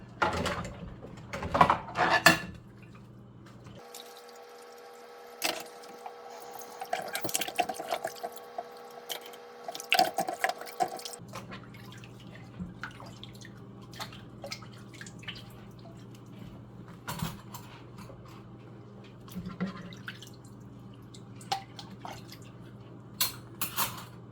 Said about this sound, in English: I still have to rinse them, the dishes, under running water